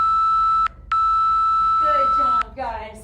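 A workout interval timer beeps at the end of a HIIT cardio session: two loud, steady electronic tones, a short one followed by a longer one, with a voice speaking briefly near the end.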